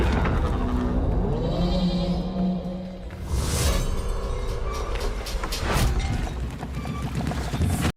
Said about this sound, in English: Fucking sheep breaking its fucking neck. in the opening 5 seconds of the trailer.